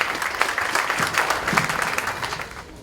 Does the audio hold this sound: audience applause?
yes